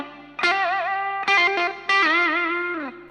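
Electric guitar with effects, distortion and chorus plays a short solo phrase (PULSE version), with a brief muted gap between three sustained, bent notes; close and alone.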